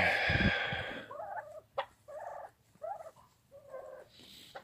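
Turkeys gobbling nearby in several short warbling bursts, spaced apart, with a brief louder squawk at the start and quiet gaps between calls.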